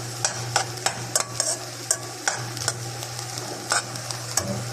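Meat filling for sambosa fries in a pan, a steady low sizzle beneath repeated sharp scrapes and clacks of a utensil stirring it, close and fairly quiet, with no talking.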